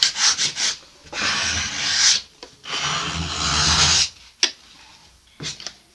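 Sandpaper rubbing over a wooden desk in bursts of rough, rasping strokes with short pauses between them, close and fairly loud, no voices present.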